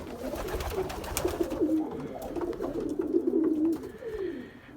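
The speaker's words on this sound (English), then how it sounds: "There's 36 pigeons in here, cocks and hens" Racing pigeons, a mixed team of cocks and hens, coo steadily inside their loft at night, a continuous layered murmur of low throaty calls from many birds close by, with no talking.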